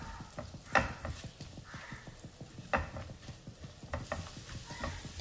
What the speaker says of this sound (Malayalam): വെളുത്തുള്ളി ഒന്ന് മൂത്ത് വരണം.